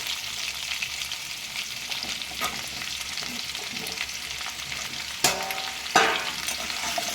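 Pumpkin and potato pieces fry in a pan for a Bengali pumpkin dish, giving a steady broadband sizzle with a few sharp scrapes of stirring near the end; no one speaks.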